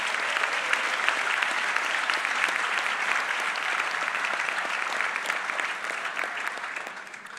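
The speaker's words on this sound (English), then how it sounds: "Let's give them all a big round of applause." At the John J. Duggan Academy 2023 graduation, the audience gives sustained applause for grandparents and families, a thick, even roar of many hands that stays strong for several seconds and tapers slightly near the end.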